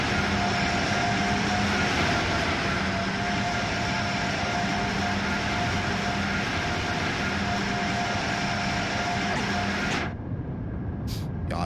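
An Acela Express train in Train Sim World 3 runs at top speed with a steady, loud rumble and an even electric hum that holds throughout, then cuts off abruptly near the end.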